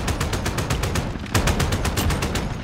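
Rapid automatic gunfire in Modern Warfare, a steady close loud burst of evenly spaced shots with one brief pause midway.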